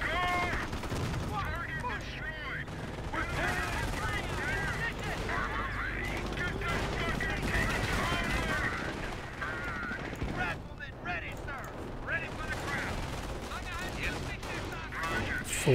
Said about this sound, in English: So what's hitting these guys? Machine gun.